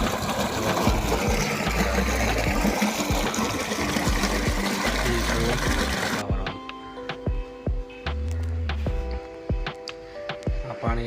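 A motor pump fills a farm water tank with a steady mechanical whir and rushing water. Partway through, the sound changes to quieter, uneven knocking and splashing.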